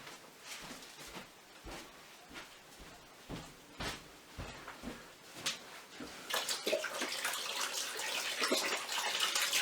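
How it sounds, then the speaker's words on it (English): Hands are washed under a running tap at a sink: water splashes and gurgles with intermittent knocks and handling sounds, then the flow grows steadier and louder toward the end. "now I'm going to wash my hands"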